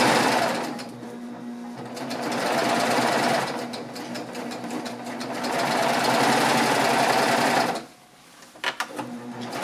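Serger sewing machine stitching a pillowcase with piping, a steady loud mechanical whir running in long bursts, easing off briefly near the end before restarting.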